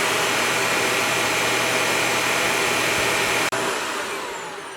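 A Shark upright vacuum cleaner roars steadily on high carpet with its beater brush spinning. The loud, even whine holds, then briefly cuts out and resumes, trailing off slightly toward the end.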